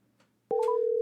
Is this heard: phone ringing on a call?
yes